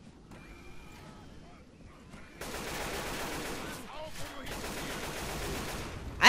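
Dense, sustained automatic AK gunfire from the video game Left 4 Dead rattles on for several seconds, loud and continuous, with a few quieter mechanical sounds before it starts.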